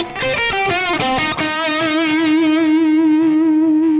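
A distorted electric guitar note wavers with a shaky vibrato, then settles into a sustained, loud, ringing tone with steady harmonics.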